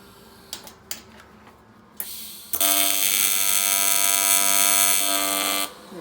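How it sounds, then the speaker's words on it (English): A TIG welder tacking aluminum intercooler piping: a few faint clicks, then a steady, loud high-pitched electric buzz holds for about three seconds before cutting off abruptly. "Need a stronger tack on that one."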